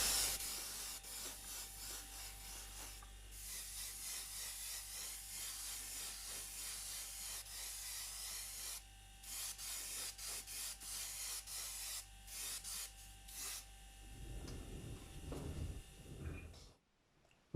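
Airbrush hisses a continuous fine paint spray over a 1/24 scale Airfix Bf 109E model kit, a steady soft airy rush with brief pauses, ending with a short rattle and handling noise before cutting off.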